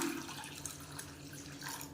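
Water poured into a cooking pot of mashed ingredients during home cooking: a soft, steady splashing trickle lasting about two seconds, quiet and close, with no talk.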